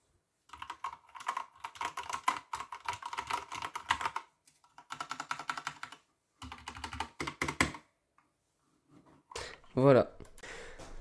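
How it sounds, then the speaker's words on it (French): Typing on a Corsair K65 RGB Mini keyboard fitted with Cherry MX Red switches, a dense run of close keystrokes in several bursts with short pauses, and a voice talking briefly near the end. "ce sont des switches MX Cherry, donc là personnellement c'est les Red."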